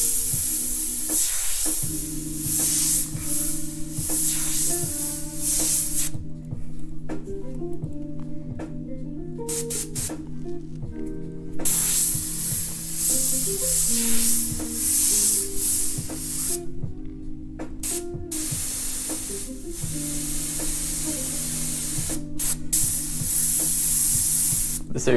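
Airbrush spraying paint for graffiti lettering, an air hose with a pressure regulator feeding it: a steady hiss that keeps cutting off and starting again in short bursts, close by, with a faint hum underneath.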